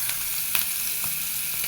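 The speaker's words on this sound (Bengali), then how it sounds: "এবার দেব পেঁয়াজ বাটা" Onion paste hisses into hot oil seasoned with cumin seeds, a bright continuous sizzle with a few soft stirring scrapes, close and unbroken by voices.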